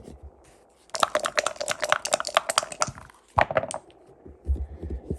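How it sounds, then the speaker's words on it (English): Green dice rolled on a Casa de Gamao backgammon board with polished brass fittings, a quick burst of dense rattling clicks, a pause, then a second shorter clatter, close and fairly quiet. "Let's take a listen to the dice. I'll use the green dice for this."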